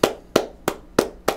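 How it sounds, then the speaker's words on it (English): Applause from a live webcast audience at an animation critique session: five sharp, evenly spaced claps about a third of a second apart, close and clear with no talk. "Let's give Tim a round of applause."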